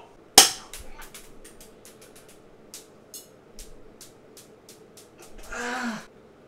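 BB gun shots fired indoors: one loud sharp crack followed by a rapid string of lighter snapping pops, then a short breathy hiss near the end.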